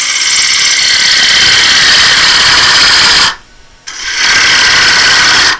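A wood lathe spins a bowl while a bowl gouge cuts, producing a loud, steady hissing whine that drops out briefly for about half a second, then resumes at full strength, with no talking.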